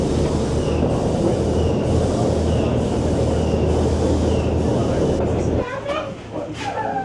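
The Hotham Valley steam train, Australia's oldest, on its return run, a loud, continuous rumble of carriages and wheels on rail, close and steady, fading slightly at the end; someone talks over it.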